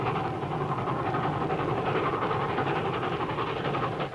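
Train rolling along in a 1941 western setting, a continuous loud rumbling roar with faint rhythmic clatter, steady throughout and easing slightly at the end, no talk.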